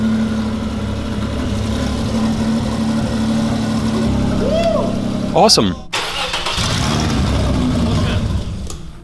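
A Lamborghini replica car cranks and fires up, its engine catching and running with a steady mid-pitched rumble, a short sharp burst near the middle, while people talk over it.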